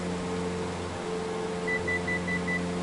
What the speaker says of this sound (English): That beeping was the autopilot telling me I'm getting away from my altitude that I have set.